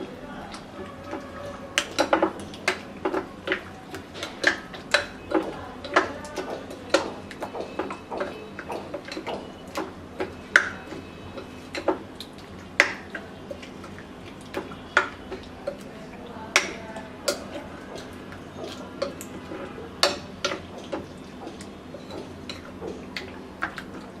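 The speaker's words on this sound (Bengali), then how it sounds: "এবার মিক্স করে নিচ্ছি" A spoon clinks and scrapes against a bowl while chicken for hariyali kabab is mixed with kabab masala marinade, making irregular light taps and clicks at close range throughout.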